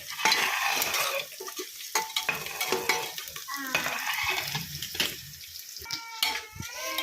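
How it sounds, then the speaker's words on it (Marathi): Onions frying in a pan until golden, a busy crackling sizzle with scraping stir strokes and clinks, steady and close throughout with no talking. "इथं मी कांदा भाजून घेतलाय."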